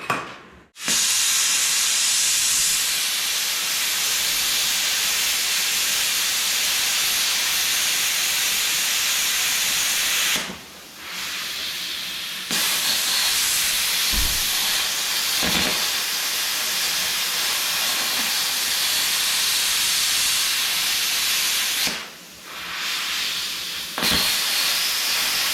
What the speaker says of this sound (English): Next, I'll plasma it out.